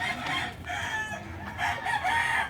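Backyard chickens cluck and a rooster crows nearby, with several overlapping bird calls across a few seconds at a small home farm.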